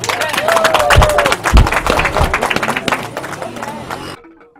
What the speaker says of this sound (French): je vais vous prier d'applaudir pour le personnel de ce centre